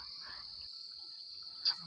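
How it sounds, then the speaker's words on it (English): Crickets at night in an African village keep up a steady high chirring drone throughout, fairly faint, with a brief louder rustle near the end. "The chirping sound in the background is made by crickets."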